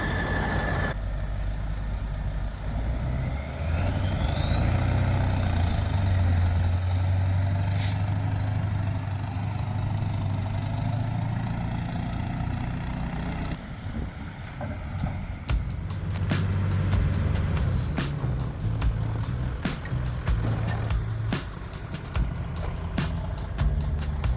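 On an icy hill, a truck engine drones steadily and loudly nearby throughout, with a rising whine early on and clattering, knocking bursts in the later half, and no one speaking.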